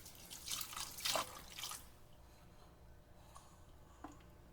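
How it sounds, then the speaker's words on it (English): Faint drips and splashes of water from hand-washed yarn being folded and squeezed out, clustered in the first two seconds, then sparse single drops at a quiet, close distance. "Folding it in half and then squeezing out as much water as I can."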